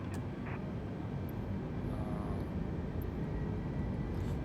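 An Airbus airliner accelerating for takeoff on runway 16 right in Microsoft Flight Simulator on a Narita departure, a steady faint engine roar with a continuous low rumble and no voices.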